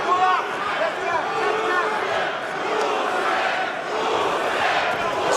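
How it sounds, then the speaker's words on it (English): At an Oleksandr Usyk vs Chazz Witherspoon boxing match, an arena crowd shouts and roars in a dense, loud wash of voices that rises and falls without letting up. "This crowd wants to see action."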